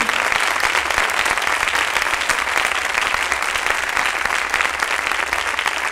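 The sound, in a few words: congregation applause in a church service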